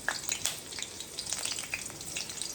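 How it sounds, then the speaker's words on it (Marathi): Green chillies sizzle in hot oil for a tadka, the base for kanda pohe, with a steady close frying hiss and crackle throughout and no voice. "मिरचीचा तडका चालू आहे ऑलरेडी"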